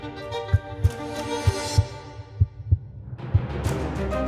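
A heartbeat sound effect thumps in slow, evenly spaced double pulses, loud and close under a swelling musical drone that shifts midway.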